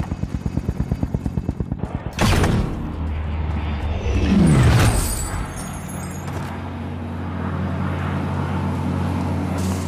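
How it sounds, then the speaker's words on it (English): In Call of Duty Warzone, a helicopter departs: rapid rotor chops give way to a loud whooshing surge and a sweeping engine roar, followed by a steady, lower drone. "Helicopter is away."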